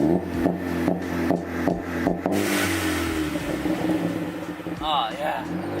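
A Ford Focus ST with a catless MBRP downpipe fires in a rapid string of popping, stuttering bursts on two-step launch control, then revs and pulls away, loud and close.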